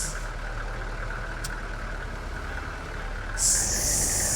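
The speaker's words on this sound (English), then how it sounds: "you can hear that engine picking up right there" A TLX 3500 tractor engine in Farming Simulator 22 drones steadily at low pitch throughout, with a short high hiss near the end as the engine note rises.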